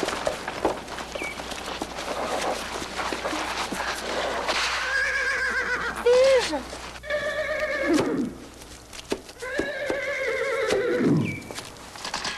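Horses neigh and whinny in several loud, shrill bursts, some falling in pitch, with hoof clip-clop and movement sounds between the calls at close range.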